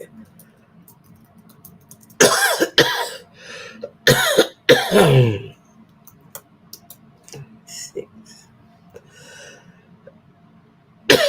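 Several harsh coughs burst out close by, separated by short pauses, with a faint steady hum underneath and a brief spoken word.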